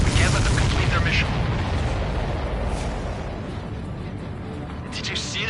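Explosion in the combat flight game Ace Combat 7, a heavy rumbling boom that fades gradually, with brief bright bursts on top and voices over it.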